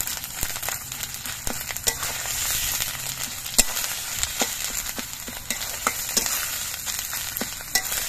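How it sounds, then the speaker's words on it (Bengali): Cabbage leaves frying in oil with garlic, a continuous close sizzle broken by repeated sharp scraping clicks of a spatula stirring the pan. "এবার নাড়াচাড়া করে পাতাগুলোর সঙ্গে মিশিয়ে দিচ্ছি"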